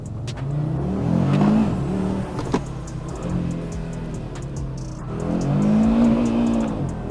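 A 2021 Audi RS3 accelerates hard in manual mode, its engine revving loudly up through the gears with brief shift breaks between rising pulls, heard close from inside the car.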